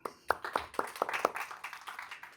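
A brief smattering of audience applause at an architecture presentation: several sharp hand claps close together that soon fade into scattered, softer applause.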